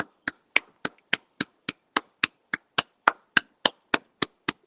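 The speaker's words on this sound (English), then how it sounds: "Oh, you want to know why I'm clapping?" Seventeen sharp hand claps in an even, steady rhythm, crisp and close, each a bright isolated crack with silence between and no talk.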